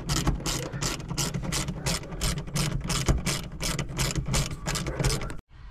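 A ratchet wrench backs out bolts holding the rear seat of an S550 Ford Mustang, clicking in a fast, steady series of close, loud pawl ticks that run for about five seconds before stopping abruptly.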